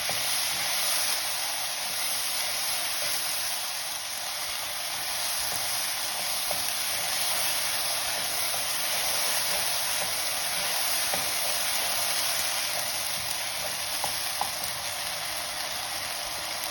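Onion-masala base for matar paneer frying in a pan, a steady, dense sizzle and hiss that runs unbroken, with faint stirring scrapes now and then, close and alone.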